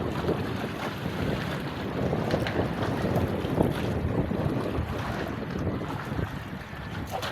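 Strong wind buffets a fishing boat at sea, roaring across the microphone in constant gusts with waves washing beneath, loud and unbroken, no voices.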